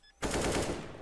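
A short burst of rapid gunfire in a Counter-Strike match, a wallbang shot fired through cover, breaks in sharply after a quiet moment and rattles on as a dense, loud volley with no voices.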